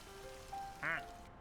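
A duck in a video game gives a single short, quiet quack over a soft, steady background hiss, with a faint tone just before it.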